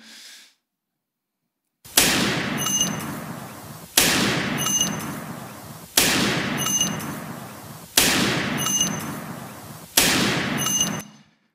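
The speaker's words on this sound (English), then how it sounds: "There's gunshots on the slide, and they're really loud." Five loud, sharp gunshots ring out at steady two-second intervals, each followed by a decaying echo, with no talking.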